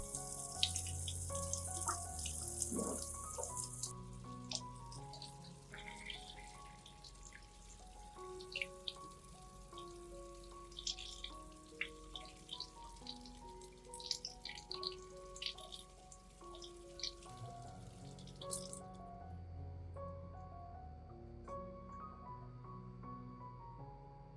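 Running tap water splashes and drips as aloe vera leaves are washed under a kitchen faucet, with irregular close patters and droplets, soft and continuous before cutting off near the end.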